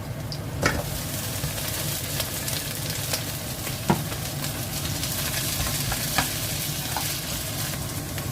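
Onion and green chillies sautéing with garlic in a pan for a pork chilli dish: a steady, close frying sizzle with occasional soft clinks and stirring scrapes throughout.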